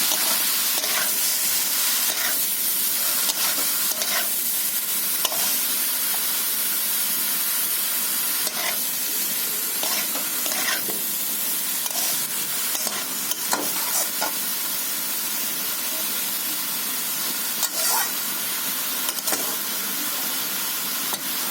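Bottle gourd and potato pieces fry in a pan with a continuous sizzle, while a spatula scrapes and stirs in irregular clattering strokes throughout, no talking.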